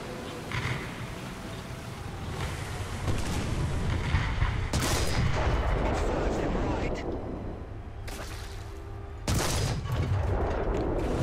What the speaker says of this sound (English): He's got artillery on me.